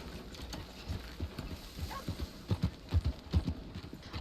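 Horse hooves clip-clop in a steady trotting rhythm, growing heavier and closer, as a rider travels in the Red Dead RedM roleplay game, with faint creaking tack and no talk.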